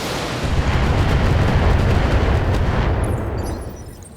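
Mech weapons in BattleTech fire on a target in a heavy, rumbling barrage of overlapping blasts that swells loudly, holds, then fades toward the end.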